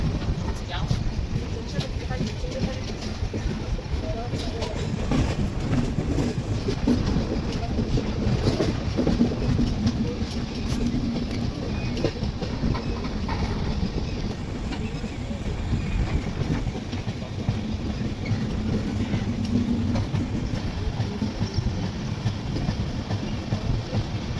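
A Kongu Superfast Express passenger train rumbles steadily along the tracks arriving at Coimbatore North station, with a continuous clattering roar from the wheels, loud and close, while people talk in the background.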